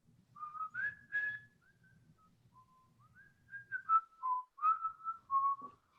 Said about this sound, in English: I recognize that whistling anywhere